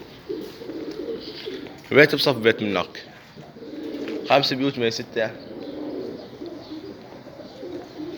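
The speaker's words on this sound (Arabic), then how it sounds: "هاك بعد تدري طيور حتى على الدرج هم نازله" Pigeons coo repeatedly on a rooftop in a steady low murmur, while someone speaks Arabic over them in short bursts.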